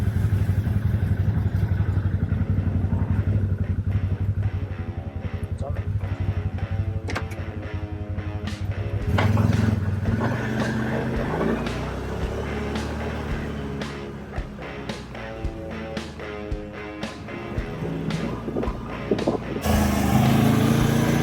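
An A.ODES Workcross 650-3 4WD UTV drives on a test run, its engine revving and droning loudly up close with shifting pitch, clattering over the ground as speed changes.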